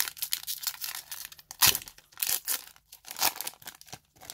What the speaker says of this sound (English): I can't open these bloody packs